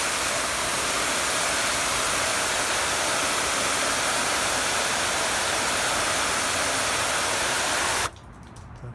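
A hose on the shower setting sprays water onto a coated car wheel, a loud, steady hiss of spray that cuts off abruptly near the end, leaving quiet.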